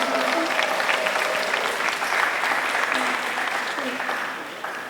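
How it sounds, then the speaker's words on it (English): A room full of people gives Myrna another round of applause at a shark chat event, sustained clapping with some voices mixed in, tapering slightly toward the end. "Let's have one more round of applause for Myrna"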